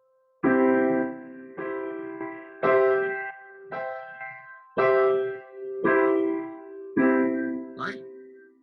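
A MIDI keyboard plays triads in a rising series of inversions up the octave: seven separate sustained chords, each struck cleanly and held briefly before the next, with no talking.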